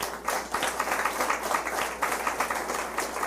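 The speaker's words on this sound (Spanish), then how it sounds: "Denle un aplauso al Señor." A church congregation claps together during a sermon, a fairly quiet but rhythmic applause with individual hand claps audible in a loose, steady pulse.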